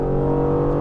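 An Aston Martin Vantage engine drones loudly and steadily from inside the cabin during hard cornering, a rich sustained tone with no talk over it.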